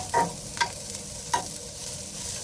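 Broad beans are sautéed in a pan with salt, giving a low steady sizzle and three distinct scrapes of a spatula, heard up close with no talking.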